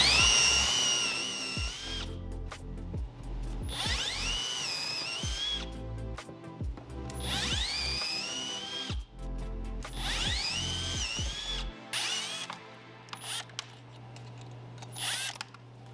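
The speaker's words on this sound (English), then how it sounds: "So we're gonna go ahead and drill all these out" Power drill boring out rivets on a Sea-Doo hull, several repeated whining bursts that rise in pitch as each rivet gives way, separated by short pauses, close and clear.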